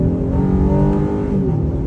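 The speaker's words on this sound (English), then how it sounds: "try out an acceleration off the line. First gear, off the line, on the gas" A 2023 Honda Ridgeline midsize pickup accelerates hard from a standstill in first gear, and its engine drones loud and close from inside the cabin as the revs climb steadily.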